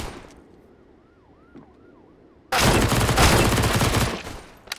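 Pistol gunfire in a Counter-Strike match on the Vertigo map: a faint wavering wail at first, then a sudden, loud, dense volley of rapid shots lasting about two seconds.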